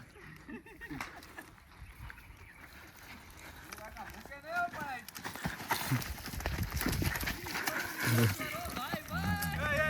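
Horse hooves clip-clop unevenly amid lively outdoor chatter and shouting voices, the hoofbeats moderately close and partly masked by talk.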